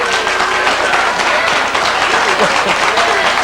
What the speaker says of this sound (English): Are you applauding that?